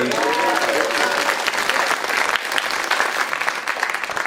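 An audience at a Bay Area street dance event applauds a DJ with dense, loud clapping throughout, and a voice briefly sounds over it at the start.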